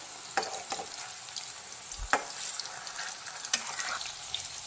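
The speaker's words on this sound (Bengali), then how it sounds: "যেহেতু এগুলো পকোড়া সেই জন্য তো আমাকে তেলে ফ্রাই করতেই হবে।" Chicken pakora frying in hot oil gives a soft, steady sizzle with a few sharp clinks and pops scattered through, fairly quiet and close, with no voices.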